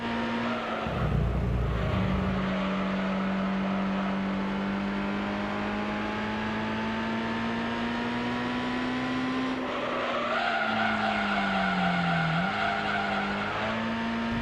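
Race car engine in the video game Gran Turismo 3 drones steadily at high revs with shifting pitch, a skid or tire squeal breaking in near the start and again around the ten-second mark, loud and continuous with no talk.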